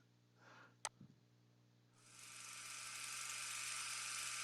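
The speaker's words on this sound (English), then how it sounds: "That sounded like a movie projector." An old movie projector's whir within a song: after a soft click and a brief tick, a steady bright mechanical whirring swells in and holds, continuous and fairly quiet over a low hum.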